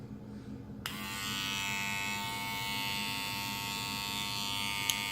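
A cordless lithium-ion Andis Slimline Pro Li hair clipper, black and fresh from its box, switches on with a sharp click and then hums in a steady, close, high-pitched electric buzz.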